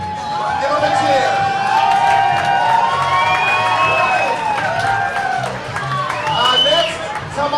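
Crowd cheering at a Killer Queen arcade game tournament, a steady roar of whoops and shouts from many voices throughout, with children's yells rising above the din.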